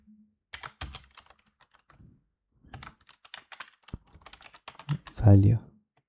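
Python code is typed on a computer keyboard, with scattered close clicks and short bursts of keystrokes, and a voice speaking intermittently between them.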